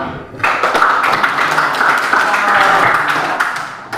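Classroom audience clapping and applauding for a teaching group, a steady dense patter lasting about four seconds with a voice partly over it.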